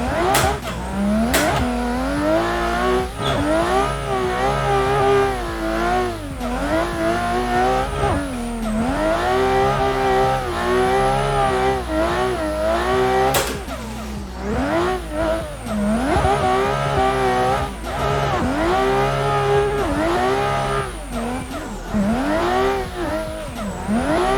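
A BMW E92 race car in the Assetto Corsa racing game drives hard, with continuous loud engine revving that climbs and drops through repeated gear changes, plus some tire squeal, and no talk.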